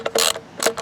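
A ratchet with a 10mm socket tightens a bolt during a valve cover gasket replacement, giving two quick bursts of close, rasping clicks.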